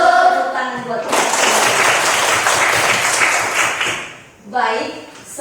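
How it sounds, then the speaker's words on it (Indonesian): A class of schoolchildren claps together loudly for about three seconds in a classroom, with a teacher's voice speaking briefly before and after the applause. "Tepuk tangan buat kita"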